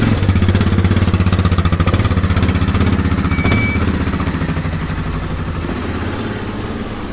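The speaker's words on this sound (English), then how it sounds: "we get the four-wheeler unloaded and get ready to do this" A four-wheeler ATV idles close by in the maple woods, a loud steady pulsing engine chug that continues throughout and eases slightly in volume toward the end, with no talking.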